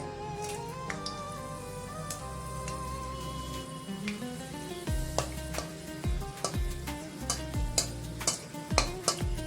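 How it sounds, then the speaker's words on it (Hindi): Oil sizzles steadily in a pan as dried chillies fry, while a utensil stirs and taps against the metal in irregular, close-up clinks. "इसी तेल पे थोड़ा सा सूखा मिर्ची फ्राई करेंगे।"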